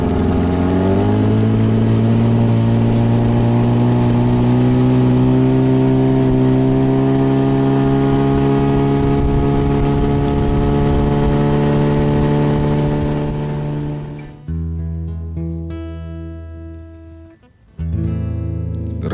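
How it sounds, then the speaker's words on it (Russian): A warmed-up Chinese-made motor runs at a steady, loud, humming idle for around fourteen seconds, then its drone drops away into a quieter, broken sputter before briefly picking up again. "Мотор прогрет. Китаец отходил без нареканий."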